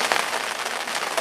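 Steady heavy rain pours down at a winter lake fishery, a dense hiss of drops drumming on surfaces with no voices, continuous and close throughout.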